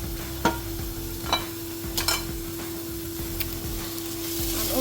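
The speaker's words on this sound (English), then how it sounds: "Add the ginger and garlic and stir very well and allow it to simmer." Ginger and garlic are being stirred in a pan with onions, giving a soft, steady simmering sizzle broken by a few sharp scrapes and taps of the spoon against the pan, with no voices.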